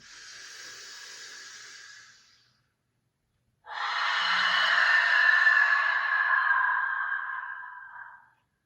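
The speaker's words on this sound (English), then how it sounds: "One more, deepest breath in." Slow, deep breathing during a yoga session: a soft, airy breath lasting about two seconds, a short silence, then a longer, fuller breath of about five seconds, close to the microphone with no talking.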